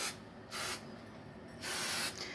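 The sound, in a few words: nonstick cooking spray being sprayed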